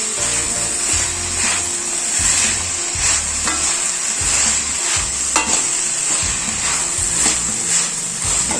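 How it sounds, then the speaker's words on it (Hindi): Street-style chow mein noodles being stir-fried and roasted in a pan, with steady sizzling and repeated rhythmic scraping strokes of a spatula throughout, loud and close with no voices. "तो अच्छे से इसे भून देंगे, रोस्ट करेंगे।"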